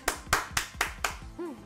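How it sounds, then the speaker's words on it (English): Five crisp, evenly spaced claps from a video game scene celebrating a million subscribers, followed by a short rising and falling tonal chime. "Please give a clap for Roman for reaching 1 million subscribers."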